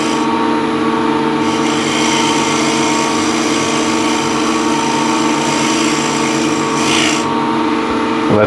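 A carving gouge scrapes steadily across the grain of a wooden workpiece, a continuous close rasping and shaving sound with a steady motor hum running underneath.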